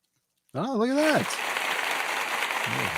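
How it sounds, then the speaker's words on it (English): A short burst of applause as a sound effect: dense, steady clapping starts abruptly and carries on evenly, opened by a rising and falling whooping voice, with another brief voice near the end. "Thank you for the short applause"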